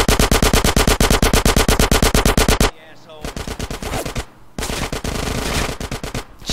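Rapid automatic gunfire from a quick-firing weapon in Grand Theft Auto San Andreas, loud dense bursts for several seconds, then a brief pause and more bursts of shooting.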